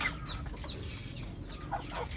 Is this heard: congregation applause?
no